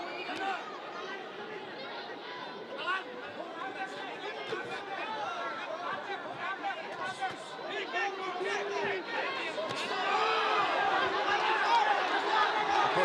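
A boxing arena crowd murmurs and chatters steadily throughout, swelling louder toward the end, while a commentator talks over the noise.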